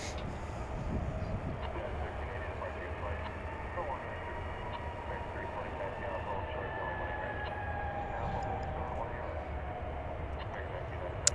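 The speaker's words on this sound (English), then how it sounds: "the A380 is arriving right now" An Airbus A380 arriving at DFW airport makes a faint, steady distant engine rumble with a thin whine drifting across it, and a voice talks quietly over it.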